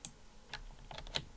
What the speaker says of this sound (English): I'm going to use Control A on my keyboard